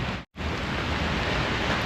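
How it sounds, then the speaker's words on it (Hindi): Steady rain falls outdoors in Russia, a dense, even hiss throughout with one brief drop-out near the start, no voices. "बारिश क्यों हो रहा है?"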